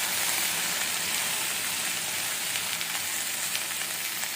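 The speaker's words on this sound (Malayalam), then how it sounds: "ഇനി നമുക്കൊന്ന് ചെറുതായി ഇളക്കി കൊടുക്കാം." Okra stir-fry (vendakka mezhukkupuratti) sizzling steadily in a pan on low heat, a continuous bright crackling hiss with faint stirring scrapes, no talking.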